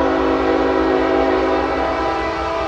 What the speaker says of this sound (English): Got a train on both tracks, a CSX and a Norfolk Southern coming.